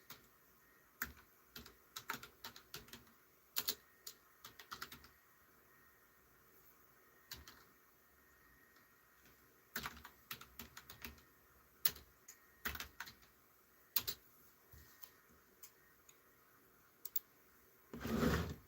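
Typing on a computer keyboard: irregular bursts of quiet close key clicks with pauses between words, ending with a louder rustle or clunk.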